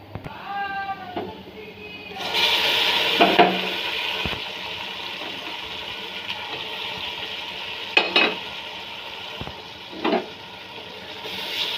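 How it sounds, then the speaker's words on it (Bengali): Ginger paste, garlic, cumin, coriander, garam masala, turmeric and chili powder fry in a pot for beef curry, stirred in a steady sizzle. A few louder scraping strokes and a bleat-like squeal come early in the clip. "ভালো করে মশলাটা কষিয়ে নিচ্ছি।"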